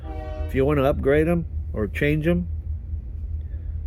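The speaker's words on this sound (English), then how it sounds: "there's a train going right next door to us" A train passes right next door, its horn sounding as a sustained tone with a low rumble underneath, partly covered by someone talking over it.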